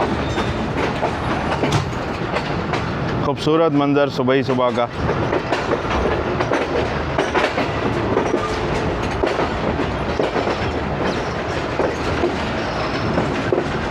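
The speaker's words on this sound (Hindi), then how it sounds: "दोस्तों रावलपिंडी रेलवे स्टेशन के यार्ड से निकलते हुए" The Tezgam train pulls out of the Rawalpindi railway station yard with a continuous rumble and clickety-clack of wheels over the tracks, including a short burst of squealing, while someone talks over it.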